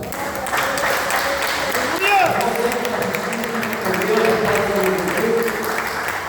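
Steady applause from a church congregation fills the whole stretch, with voices calling out praise over the clapping.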